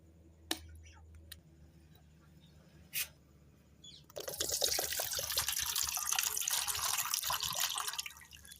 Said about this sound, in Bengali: এবার আমি মুখটা ফুটো করে জলটা বের করে নেব।